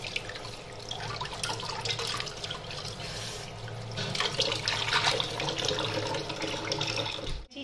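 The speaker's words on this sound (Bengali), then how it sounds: "ধুয়ে টুয়ে সব পরিষ্কার করে দিলাম" Tap water runs steadily into a sink while fish are rinsed, a constant close splashing flow with small clatters throughout.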